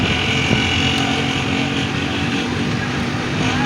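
Motorcycle ridden on a road from Mimbar toward Lahore, gears shifted without the clutch, gives a steady loud engine drone with wind rush, continuous and close throughout with no clear gear-change breaks.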